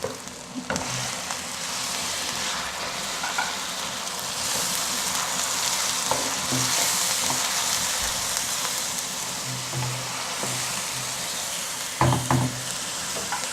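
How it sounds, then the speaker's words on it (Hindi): Cumin seeds and tomatoes fry in a pan for aloo gobi, making a dense continuous sizzle like rain, with a few soft stirring knocks and a sharper clatter near the end. "अब मैं इसकी करती हूँ हल्की सी बुनाई और इसके साथ ही हम टमाटर ऐड कर देंगे इसमें"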